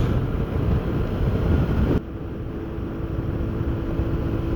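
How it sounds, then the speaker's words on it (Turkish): Strong wind roars in a steady, loud low rumble during a long-distance 125 cc motorcycle ride in central Turkey, buffeting continuously with no voices, its tone shifting slightly partway through. "Evet şiddetli rüzgar."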